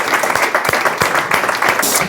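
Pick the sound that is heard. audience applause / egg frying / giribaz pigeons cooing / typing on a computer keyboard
audience applause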